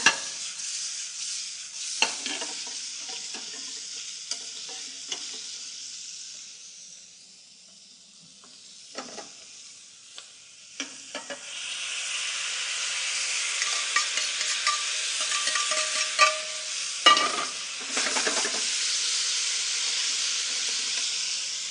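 Shrimp and sauce sizzle steadily in a hot pan while being stirred, the hiss swelling louder partway through, with intermittent scraping and clinking of the utensil up close.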